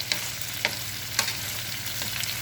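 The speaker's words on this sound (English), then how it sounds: "Very important to stir the sauce again." A spoon stirring cashew chicken sauce, soft scraping strokes with a few faint clinks over a steady low hum, no voices.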